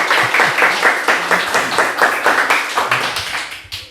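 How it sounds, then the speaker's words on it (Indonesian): A small studio audience during a podcast gives a short burst of rhythmic clapping, close and fairly loud, with the individual claps clearly audible. "Tepuk tangan dulu untuk Mas HRD"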